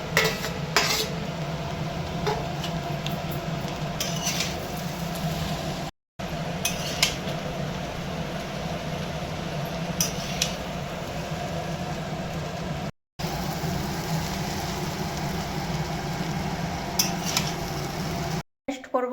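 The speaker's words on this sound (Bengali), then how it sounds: "ডিম আলু ক্যাপসিকাম চাউমিনের মধ্যে ঢেলে দেওয়া হচ্ছে দিয়ে আবারও ভালো করে মিক্স করে নিতে হবে" Chowmein is tossed with egg, potato and capsicum in a pan, with a steady low sizzle and repeated metal scraping and clinking of a utensil against the pan, close by, cut by a few brief silent gaps.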